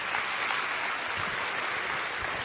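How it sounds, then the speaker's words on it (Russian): A church congregation applauding, a dense steady wash of many hands clapping together, continuous and fairly loud throughout with no voices standing out. "можно аплодисменты Богу"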